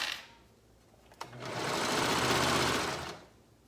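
A sewing machine stitches a girl's classic swimsuit made up as a tankini, a short burst of fast, loud whirring lasting under two seconds after a click and quiet handling.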